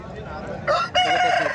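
A rooster crowing at a country chicken market in Chintamani, a loud, close, drawn-out crow rising after a moment of murmuring market noise.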